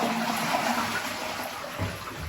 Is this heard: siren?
no